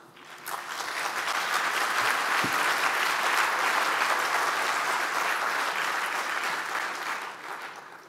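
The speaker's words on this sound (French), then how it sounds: "tu mérites que tout le monde t'applaudisse." Sustained applause from a conference audience, a broad dense wash of clapping that swells in quickly, holds steady for several seconds and tapers at the end, with no talk over it.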